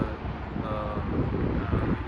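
Wind blowing along the Erie Canal walking trail in Pittsford, a steady, soft rushing and buffeting that stays at an even level throughout, with no other clear sounds.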